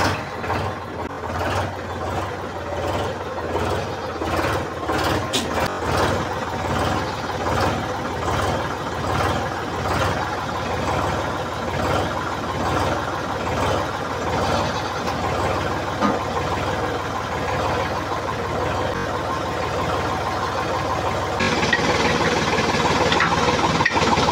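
A tractor engine runs steadily at night while a trolley is hitched and the tractor pulls out. It makes a rhythmic, knocking diesel chug throughout and grows louder near the end, with no talking.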